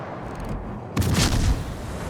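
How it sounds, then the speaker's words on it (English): A 16-inch shell from the battleship Missouri strikes the cruiser Bayard in a naval battle game, giving one sudden heavy impact boom with a short rumbling crackle behind it, loud over steady sea and engine noise. "That's what happens when a 16-inch shell hits the Bayard."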